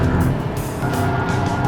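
An Audi A3 driven hard around a racetrack, its engine roaring loud and close with a rough, continuous drone and hints of tire scrub through the corners.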